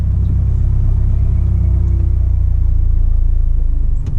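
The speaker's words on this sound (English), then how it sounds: "slowly release the clutch until your car starts moving" A manual car eases away in first gear as the clutch is released, its engine a loud, steady, deep rumble that dips briefly at the very end.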